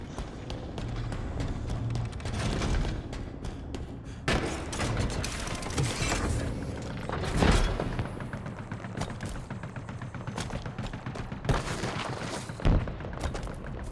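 Rockets firing and exploding in the Halo Infinite video game, heard as several sharp booms and thuds over a continuous backdrop of gunfire and combat noise.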